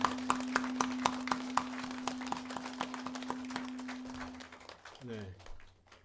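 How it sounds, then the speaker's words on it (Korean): A church congregation claps in a fairly regular rhythm over a sustained microphone hum, then the clapping fades out and a voice speaks briefly at the end. "우리 옆에 있는 분들을 위해서 우리 한번 크게 박수해 주시기 바랍니다"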